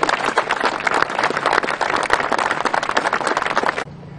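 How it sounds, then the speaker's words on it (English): A crowd claps and applauds for the builders of a bridge, dense steady clapping that carries on for almost four seconds and then stops abruptly, leaving a faint low hum. "We got to give them a big round of applause for that"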